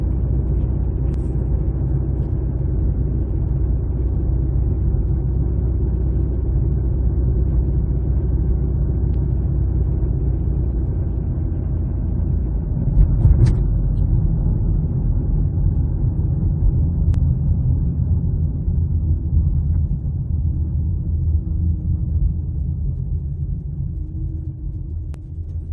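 A car with a 6F50 automatic transmission on a test drive gives off a steady, loud low rumble of engine and road noise that carries the gear shifts, with no talking.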